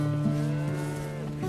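Rare Canadian Lineback cattle, black and white, and dark sorrel Red Poll cattle on a farm; one long, low, steady moo fills the moment, close and clear with no talk.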